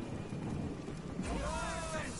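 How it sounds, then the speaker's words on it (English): Steady rain hiss and low thunder rumble in the video game Divinity, a continuous dense wash that grows slightly fuller partway through, with faint tonal game sounds over it. "Lots of rain."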